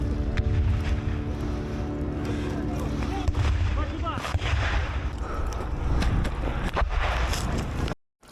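In a combat zone in Ukraine, an artillery round lands close to an armored vehicle, producing loud booming blasts amid heavy wind and microphone buffeting, with voices heard and an abrupt cut at the end.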